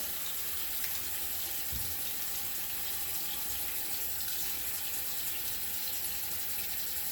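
Warm water runs steadily from a bathroom tap into a sink for face washing, a continuous close rushing splash with no talk.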